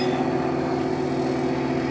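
A vibrating exercise machine gives a steady mechanical hum and buzzing rumble, droning continuously, even and loud, at constant speed.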